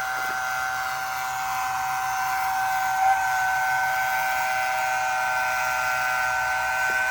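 A steady, high-pitched whine of a wet vacuum sucking water and debris from a hot tub runs continuously without pause, with a brief gurgle midway.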